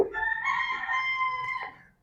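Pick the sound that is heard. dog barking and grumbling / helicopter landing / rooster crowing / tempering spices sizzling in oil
rooster crowing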